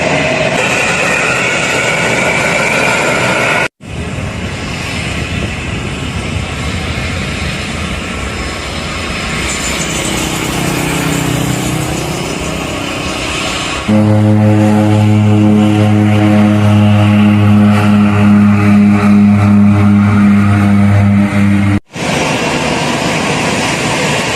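A Batik Air airliner that has just landed, taxiing at an airport in North Kalimantan: a loud, steady jet engine roar that shifts midway into a stronger tonal whine with stacked harmonics, continuing without talk.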